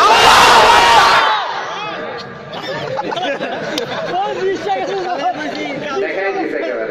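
Large crowd at a religious sermon gathering bellowing a loud, unified takbir response in one burst lasting about a second, followed by a lone speaker's voice with echoing hall chatter behind.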